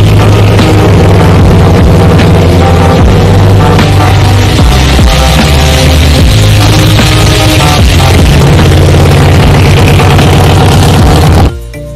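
Loud, continuous motorcycle engine drone with a rough, rattling low throb, running steadily throughout and cutting off abruptly at the end.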